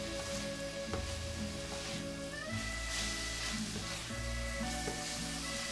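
Garlic and onion powder sizzle in a pan as stromboli filling cooks, a constant close hiss and crackle under a faint tonal hum, with no talking.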